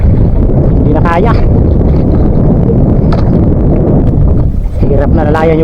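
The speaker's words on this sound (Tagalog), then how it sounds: "Malakas na yung hangin." Strong wind at sea on a small boat near Biri Island, roaring loudly and constantly across the microphone, with brief voices rising through the gusts.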